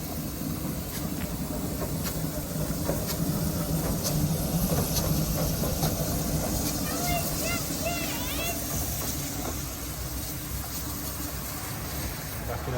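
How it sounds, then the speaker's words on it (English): Steam locomotive slowly running round its train at a heritage railway, a continuous hiss and rumble with faint squeals and clanks, heard from nearby with people talking over it. "the loco is running round. Very slowly, but it is."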